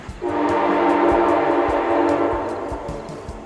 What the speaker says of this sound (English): There is a train that runs just outside the campground.